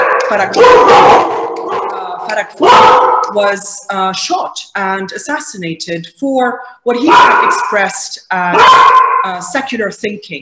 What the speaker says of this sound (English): And you'll have to excuse my dog, who just made a quick hello to our audiences everywhere.